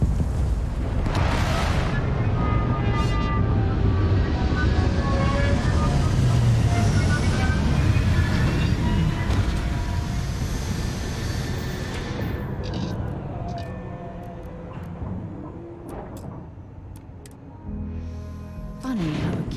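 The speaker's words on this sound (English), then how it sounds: "Beginning landing cycle." A spaceship in the video game Starfield descends toward Akila City, a heavy rumbling engine roar with deep booming thrust that swells loudly, then thins and fades toward the end, with a brief synthetic voice announcement.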